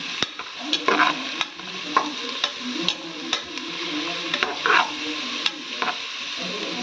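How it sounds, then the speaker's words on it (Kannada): Onions fry in a pan, a steady sizzle broken by frequent sharp scrapes and taps of stirring at an uneven rhythm, close and clear, with no one speaking. "ಇವಾಗ ನೋಡಿ ಚೆನ್ನಾಗಿ ಈರುಳ್ಳಿ ಫ್ರೈ ಮಾಡ್ಕೋಬೇಕು"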